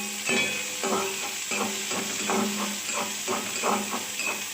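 Chopped onion frying in a hot pan for masala egg Maggi noodles, a steady close sizzle broken by repeated stirring scrapes in an even rhythm, with no talk.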